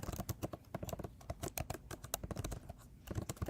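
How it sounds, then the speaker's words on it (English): Quick, irregular clicks of a computer keyboard being typed on close to the mic, coming in dense bursts with short pauses and no one talking. "Is my typing still loud?"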